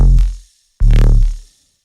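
A synth bassline replacing beatboxed throat bass, heard as two short, loud, buzzy low bursts separated by a brief silence, the second longer and brighter.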